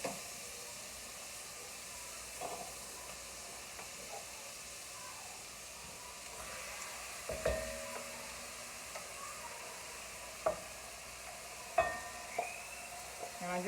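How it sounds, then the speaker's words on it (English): Deer or beef meat browning in a pan for chili gives a soft, steady sizzle and hiss throughout, with a few brief louder clatters of stirring and breaking up the meat. "And I just want to brown my meat."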